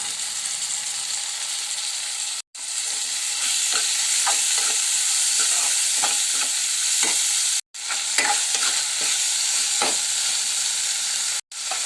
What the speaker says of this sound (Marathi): चला आता छान मिक्स करून घेऊया